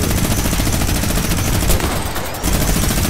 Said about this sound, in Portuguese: tiro de algum lugar